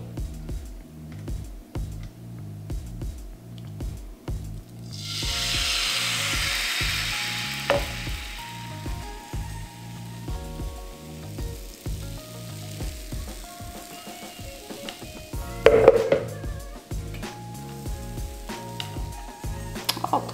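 Vegan gluten-free pancake batter hits a hot, oiled frying pan with a bright burst of sizzling that slowly fades to a softer crackle, all under continuous background music.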